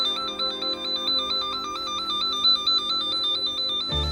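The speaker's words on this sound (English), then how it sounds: "You set this on tone. When you hit test, you'll get that little noise." A cable tracker wand set to tone mode emits a warbling, alternating electronic test tone, steady and close, continuing alone for several seconds before a brief handling thump at the end.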